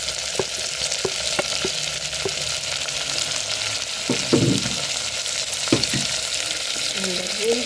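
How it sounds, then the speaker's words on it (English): Onions, carrots and green pepper sizzle steadily in a pan, a continuous close frying hiss with a few sharp spatters and stirring clatters scattered throughout. "So I'm gonna cook them until golden brown."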